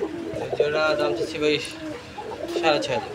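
Garra pigeons, breeding pairs kept in a coop, coo in soft, repeated low phrases close by, mixed with murmuring voices in the background.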